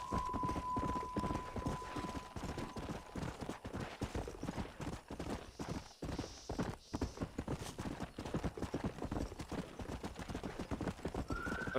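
Steady, rhythmic clip-clop of horse hooves in Red Dead Redemption 2, close and continuous, with a brief tonal chime at the start and a short pause midway.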